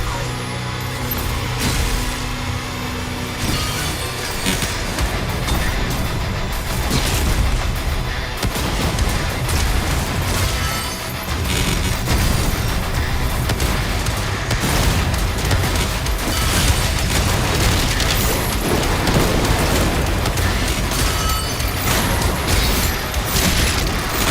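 Dense, continuous game combat with heavy booming blasts from the player's own launcher weapon in DOOM The Dark Ages, rumbling explosions packed close together over a constant loud roar, with no talk.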